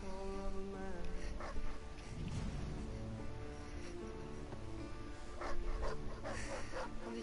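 A video game dog pants and gives short barks and whimpers over a music track, with occasional louder yelps.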